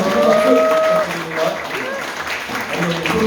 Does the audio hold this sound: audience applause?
yes